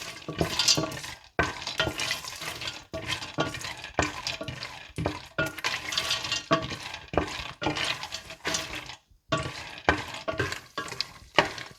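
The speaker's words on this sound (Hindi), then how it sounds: "इसके बाद 1/4 कप तेल गर्म करें और इसमें मूंगफली डालकर अच्छी सी लाइट गोल्डन सी फ्राई करके निकाल लें।" Peanuts frying in about a quarter cup of hot oil, heard as loud close crackling sizzle with rhythmic stirring scrapes that start and stop in short bursts.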